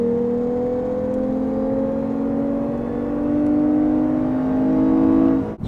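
A 2021 Lexus IS 350 F Sport engine revs steadily upward in pitch for several seconds, a smooth sustained drone of induction noise from inside the car, ending with a brief click.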